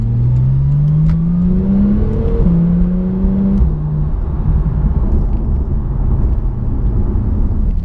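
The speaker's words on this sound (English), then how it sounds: "Wow, that was full throttle right there." A 2016 Porsche 911 Turbo S accelerates hard at full throttle, its engine note climbing steadily through the gears with a loud, continuous roar and rumble heard from inside the car, with no talking.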